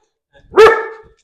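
A single loud bark from Charlie, a small dog, close by in a village street, one sharp harmonic yelp that trails off over about half a second.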